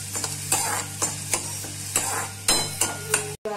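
Rice is stirred and roasted in a little ghee in a pan, with rhythmic scraping strokes about every half second over a soft sizzle and a steady low hum, then a brief cut near the end.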